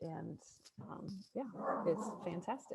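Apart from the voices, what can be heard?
dog barking at the mail truck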